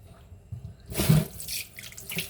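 Tap water runs steadily over raw beef being rinsed in a kitchen sink for samgyup prep, starting abruptly and flowing close and moderately loud, with a quieter lead-in of faint kitchen noise.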